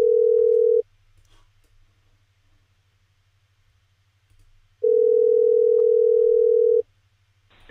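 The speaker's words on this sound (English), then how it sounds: "Sounds like it's still ringing." Two long, loud steady ringback tones separated by a pause of about four seconds, with a low hum underneath and no talking.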